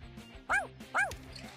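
A voice imitates a dog barking for a silent dog in a video game. Two short, sharp 'woof' barks come close to the microphone, about half a second apart, over quiet game background noise.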